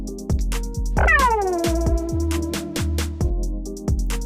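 A kitten in a Barbapapa cartoon meows in a rising-then-falling cry over a steady rhythmic thumping, fairly close, with no talking.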